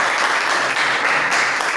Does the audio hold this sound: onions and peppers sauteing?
no